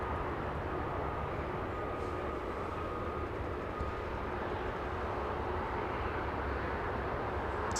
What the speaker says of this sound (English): Delta 480 flying in from Honolulu.